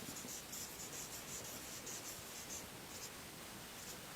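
A pen writing on paper, a soft continuous scratching with faint repeated strokes, close and quiet over a low hiss, no talking.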